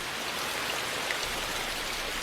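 Steady rain falls at Magoksa, a Buddhist temple in Gongju, beside the Daegwangbojeon hall, an old wooden building; a dense, even patter of drops hisses continuously and fairly close for the whole stretch, with no voices.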